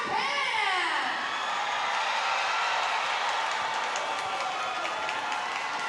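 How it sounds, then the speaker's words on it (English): Arena crowd at a women's Volleyball Nations League quarterfinal between the USA and Japan cheering loudly for Team Japan, a dense, sustained roar of many voices with shrill screams and whistles that never lets up. "I want you to make some noise if you're here cheering for Team Japan!"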